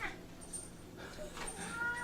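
A domestic cat meows indoors at night, with a couple of short, moderately loud calls in a quiet room and faint background noise.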